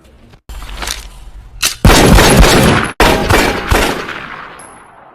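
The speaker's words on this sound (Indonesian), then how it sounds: "3 tembakan yang mengejutkan negara." Gunshots from the Indian film Rustom: three or four loud, sharp blasts in quick succession, each decaying into a roaring echo, separated by short silences.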